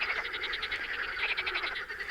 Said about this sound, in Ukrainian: бо жаб тут дуже багато. Не дають розмовляти.